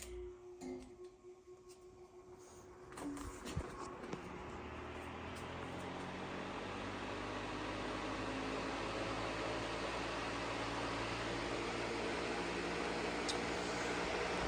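A TPI 18-inch high velocity floor fan, model F-18-TE, switches on at low speed after a few handling clicks and spins up into a steady whooshing airflow hum that grows and holds, with no talk.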